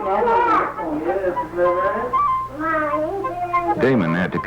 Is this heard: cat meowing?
yes